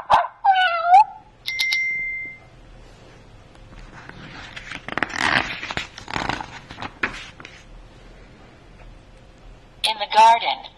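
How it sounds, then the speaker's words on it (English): Short bursts of dog barking and yelping sound up close at the beginning and again at the end, with a flurry of mixed noises in between. "In the house and backyard, dogs bark, and cats meow."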